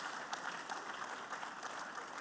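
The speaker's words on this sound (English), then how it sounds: "Guys, that deserves a round of applause." Sustained applause from a conference audience at an investment summit in Lagos, many hands clapping in a dense, even patter at moderate distance with no voices over it.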